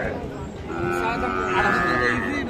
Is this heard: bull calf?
yes